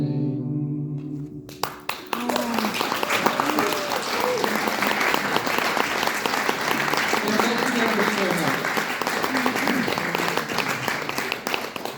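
After the end of a live music show, a crowd breaks into sustained applause: dense, steady clapping that begins abruptly after a brief quiet moment and carries on evenly throughout, with a few voices faintly audible underneath.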